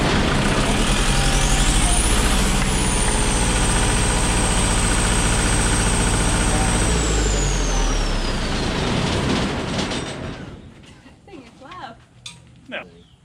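A John Deere generator engine runs loud and steady with a broadband roar and a rising whine, then winds down toward the end, leaving a few faint knocks and scattered voices.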